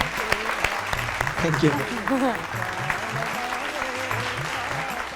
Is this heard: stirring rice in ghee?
no